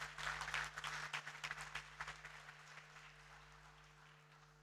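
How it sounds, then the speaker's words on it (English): A crowd at a college foundation day celebration breaks into applause, a burst of clapping that starts strong and gradually fades into a quieter patter, heard at a distance in a large hall. "Give a big round of applause if she has played a major role in your life."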